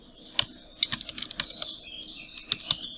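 Close typing on a computer keyboard, with irregular clusters of crisp key clicks and short pauses between bursts, and no voices.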